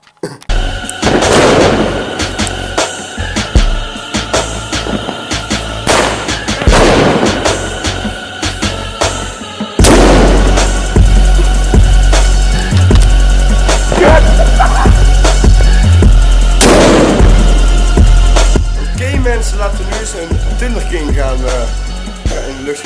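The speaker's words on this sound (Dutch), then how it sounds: "dan zien jullie zo dat ik vuurwerk afsteek." Fireworks set off outdoors, a string of loud booms and crackling bursts across the whole stretch, with a heavier sustained barrage in the second half and a few voices faintly underneath.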